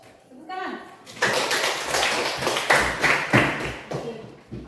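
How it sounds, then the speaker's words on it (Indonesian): Classroom of children clapping hands together, beginning after a short spoken word, then a string of sharp, fairly loud claps in an uneven rhythm, with voices chattering faintly in between. "Tepuk tangan."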